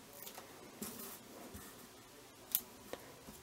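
Scissors snip dimensional adhesive pieces while making a handmade card, a few soft, faint close cuts with one sharper snip near the end.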